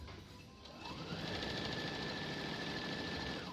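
A sewing machine stitches down a fabric edge held under the presser foot, starting with a short hum and then settling into a steady, continuous mechanical whir, close by and alone.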